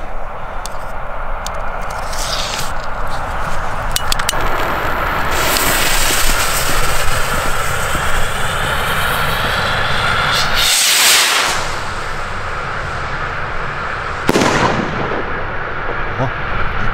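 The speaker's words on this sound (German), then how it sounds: "So, nächste Rakete." New Year's Eve firework rocket launching outdoors with a whooshing rise and a crackling burst, followed by a sharp rushing swoosh, all over steady loud background noise from other fireworks going off nearby.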